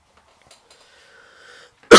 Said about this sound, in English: I was trying to wind up that cough.